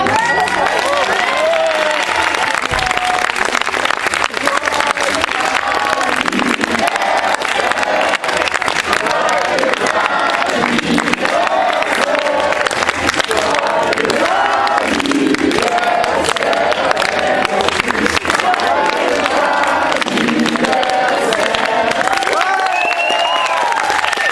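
Theatre audience applauding steadily and loudly throughout, a dense sustained wash of clapping with some crowd murmur and faint cheering mixed in.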